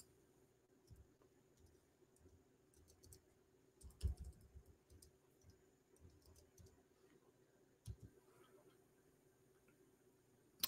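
Keys tapped on a computer keyboard to enter a single word, a few quiet scattered clicks with one firmer burst of strokes, faint against a low steady hum.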